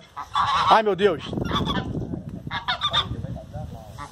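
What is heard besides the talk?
goose honking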